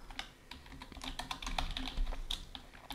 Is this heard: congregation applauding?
no